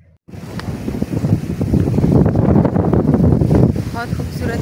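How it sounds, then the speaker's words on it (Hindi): Cool wind blowing outdoors, a steady, loud rushing buffet of air over the microphone throughout, with no speech. "ठंडी हवा चल रही है"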